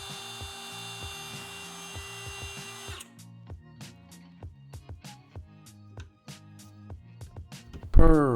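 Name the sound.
router cutting a hole in a pumpkin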